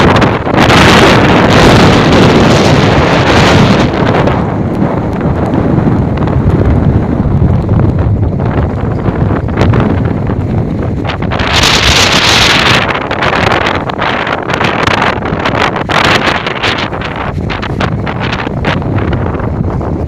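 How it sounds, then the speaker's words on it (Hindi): Strong wind during rain at Rawal Dam, roaring in heavy buffeting gusts across the microphone throughout, with surging rushes near the start and middle. "तेज़ हवा चल रही है"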